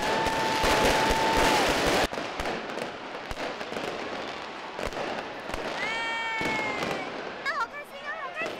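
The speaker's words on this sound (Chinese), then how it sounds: "有烟火" New Year's Eve fireworks burst over Milan in a light drizzle, with loud crackling bangs, rising whistles and sparkling crackles, while people nearby talk and call out.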